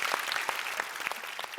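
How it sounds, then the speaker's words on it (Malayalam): A studio audience at a senior singing show applauds the chorus singers with quick, distinct claps at moderate volume, ending in a louder rise. "നമ്മുടെ കോറസ് പാടിയവർക്കും കൂടി ഒരു വലിയൊരു കൈയടി."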